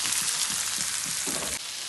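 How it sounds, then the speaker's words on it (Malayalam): Mackerel fries in a pan with a steady, loud hiss and crackle of hot oil that runs unbroken from start to finish, with faint stirring pulses and no voices. "അയില പൊരിക്കാൻ വേണ്ടിയിട്ട് ഇതാ ഞാൻ എടുത്തു വെച്ചിട്ടുണ്ട്"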